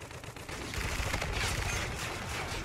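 Sustained automatic gunfire in the video game Call of Duty: Infinite Warfare, a dense rattling barrage at moderate distance that swells slightly midway and continues without any talking.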